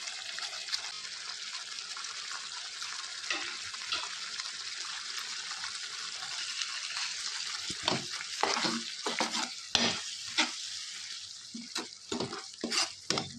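Egg masala fries in a pan with a soft, steady sizzle, joined later by intermittent scraping and clattering as it is stirred. The sound is fairly quiet and close, with no voices.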